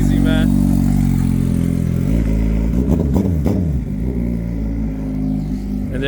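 Turbocharged Suzuki Hayabusa motorcycle pulling away, a loud, close engine rumble that rises and revs as it departs, with people talking over it.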